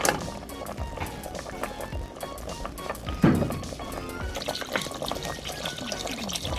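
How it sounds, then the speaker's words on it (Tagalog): Water is poured into a pot of beef broth for beef mami, a loud sloshing splash that runs steadily under light clatter, with a sharper knock near the middle. "Magdadagdag lang po tayo ng tubig para po mas marami-rami po yung ating sabaw na gagamitin sa ating beef mami"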